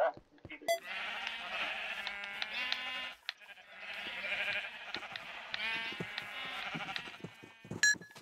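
Sheep in the Minecraft video game bleat in a few drawn-out calls with short gaps between them, over quiet game noise and a few clicks.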